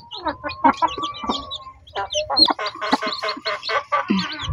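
Chicks clucking and cheeping inside a large cage, a busy overlapping chorus of short, bright peeps and clucks that stays close and moderately loud throughout.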